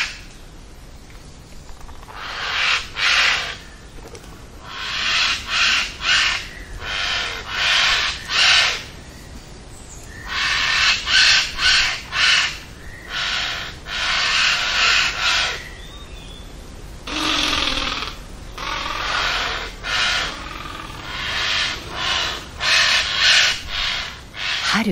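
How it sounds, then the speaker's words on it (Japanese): Lidth's jays in an Amami forest give repeated harsh, raspy warning calls during the breeding season, coming in irregular bursts with short pauses between them. The calls are fairly loud and close, with no talking. "繁殖期のルリカケスは子供を守るため威嚇を繰り返します。"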